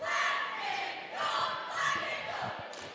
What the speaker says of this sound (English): The cheerleaders cheering their hearts out.